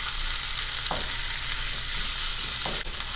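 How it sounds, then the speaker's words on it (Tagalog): Fish and tofu sisig topped with an egg being mixed in a hot pan, a continuous sizzle of frying with a couple of short scraping stirs of the utensil, alone without talk. "Paghalu-haluin na po natin."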